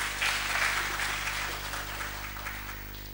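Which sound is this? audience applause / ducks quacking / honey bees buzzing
audience applause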